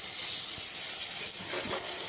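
Onions, garlic and chili fry in a pan with a steady, bright sizzling hiss, close and continuous through the short stretch.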